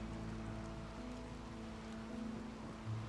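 Rain in the video game RimWorld falls as a soft, steady hiss under a faint low hum, quiet and unbroken, without voices.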